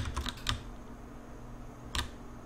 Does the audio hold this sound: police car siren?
no